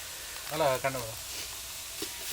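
Onions frying in a pan with green chilies and salt for a Tamil egg masala gravy, giving a steady soft sizzle with brief stirring; a voice speaks briefly over it.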